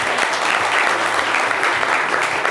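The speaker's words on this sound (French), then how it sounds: "On peut l'applaudir très, très fort." An audience applauds loudly and steadily at a live televised show as a contestant is called up, a dense wash of clapping with a faint murmur of voices underneath.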